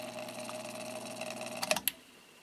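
A freely spinning rotor in a vintage GE window ventilator fan whirs with a steady hum and faint rattle, then drops off abruptly with a few clicks as it comes to a stop.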